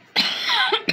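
A person coughs from allergies, one close, harsh burst followed by a short second rasp, loud against a quiet indoor background.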